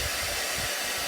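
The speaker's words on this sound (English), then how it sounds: "you simply take a hairdryer and start" A hair dryer blows a steady, loud broadband hiss at close range while warming boot grease made with beeswax into leather boots, with faint low rumbling pulses underneath and no talking.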